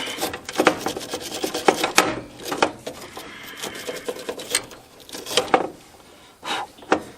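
Pipe cleaner scrubbing a lawn tractor's electrical connector, giving repeated quick rasping rubs in irregular bursts, close and moderately loud, with short gaps between strokes.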